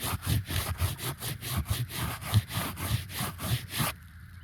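A gloved hand rubs roughly back and forth across roof shingles, a loud, close, rhythmic scraping with about a dozen even strokes that stops abruptly near the end.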